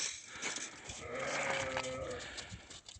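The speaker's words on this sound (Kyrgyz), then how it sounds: "Жаш ургачы козулар сатылат." Young female lambs for sale bleat in a pen, a couple of overlapping nasal calls rising near the middle, fairly close with faint farmyard background.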